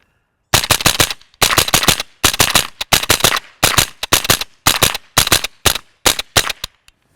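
Suppressed rifle shots with a Banshee suppressor and Mini Mag ammunition fire in quick bursts of sharp, close cracks. The bursts repeat at a steady pace over about seven seconds with near silence between them.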